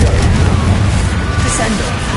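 Confringo blasting spell going off in the Hogwarts Legacy video game: a dense, loud, steady roar of explosive rumble and crackle with no clear break, packed tight into a short burst of combat noise.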